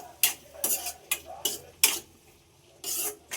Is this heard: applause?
no